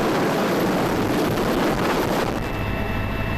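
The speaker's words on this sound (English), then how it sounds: "The Sea King helicopter is fired up." A Sea King helicopter runs for a military submarine-hunting exercise, giving a dense, loud, continuous roar with a wash of wind-like rotor noise that stays steady throughout, with no voices.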